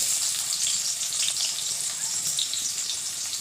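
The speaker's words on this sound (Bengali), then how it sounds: "এবার ওই তেলে একটুখানি গোটা আলু ভেজে ফোড়ন দিলাম আর পেঁয়াজ" Potatoes and onion with whole spices frying in oil, a loud, bright, steady hiss of sizzling oil that continues close throughout without a break.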